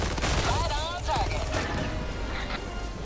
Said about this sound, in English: this thing is an MG42